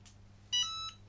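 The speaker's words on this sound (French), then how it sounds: "On va attendre que ça chauffe et que ça bip pour dire qu'elle est prête." A Cricut EasyPress 2 heat press gives a single electronic ready beep, a clear high tone lasting about half a second, close and alone over faint room hum.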